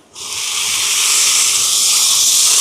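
Onion and tomato sauté in hot oil in a pan: a loud, bright, steady hiss kicks in suddenly and keeps crackling without a break.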